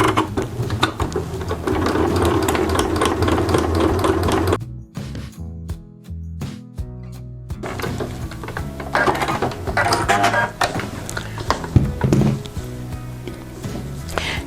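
A domestic sewing machine stitches quilt-as-you-go blocks close to a seam line in steady mechanical bursts, with a short pause and clicking midway before the running resumes, up close with no talk.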